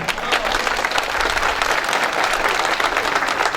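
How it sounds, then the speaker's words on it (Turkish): Steady, dense applause fills the whole stretch, a large crowd clapping loudly and evenly at a welcoming ceremony with a Balıkesir Ottoman mehter band. "Yürekten ve gönlünden alkış efendim."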